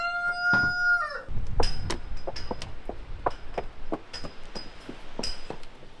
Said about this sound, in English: quite a loud rooster and a few chickens